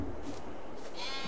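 Sheep bleat in Farming Simulator, a few muffled calls rising over a constant hum of game background noise, with no talking heard.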